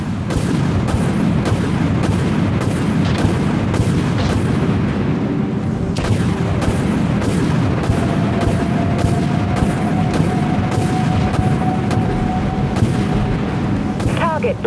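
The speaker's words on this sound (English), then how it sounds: "All silos, launch missiles." A full salvo of missiles fires from every silo of a warship in the video game Dreadnought, heard as a fast, evenly spaced barrage of heavy booming launches that runs loudly for the whole stretch over a constant rumble.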